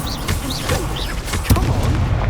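Fiery spell blasts crackle and boom in a Hogwarts Legacy duel, with a sharp burst near the middle over continuous rumbling combat noise and whooshing magic.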